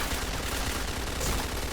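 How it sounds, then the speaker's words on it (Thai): Rapid bursts of gunfire crackle continuously over a dense, noisy video game soundscape, with no voices. "ผมลืมปิดเอฟเฟกกระสุนว่ะ"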